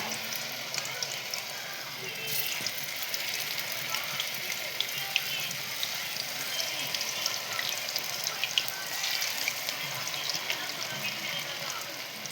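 Fried lentil fritters (bori/vadas) dropped into hot oil in a home kitchen, giving a steady, dense sizzle and crackle that runs continuously throughout.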